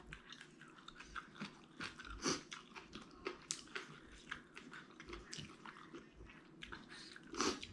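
Someone eats spicy Thai papaya salad up close, with crisp, repeated crunches and wet chewing in an irregular rhythm, quiet and near, with no talk.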